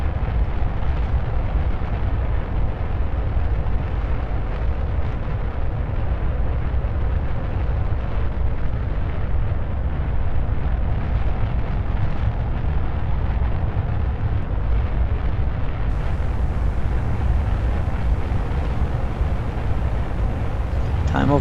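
Rocket liftoff in Kerbal Space Program: a steady, loud, broadband engine roar that holds constant throughout, with a brighter hiss rising near the end, and a voice talking over it.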